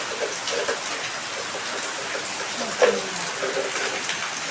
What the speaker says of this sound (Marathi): काय पाऊस पडतोय अरे बाप रे बा हे बघा केवढी धार लागली